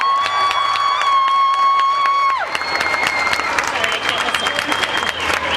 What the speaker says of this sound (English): Now give yourselves a round of applause for being here today.